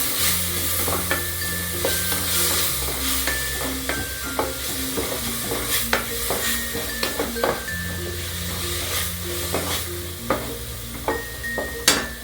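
Ginger garlic paste sizzles and hisses in a pan while being sautéed for a spicy green peas curry, with steady frying noise and repeated spatula scrapes and taps, over background music.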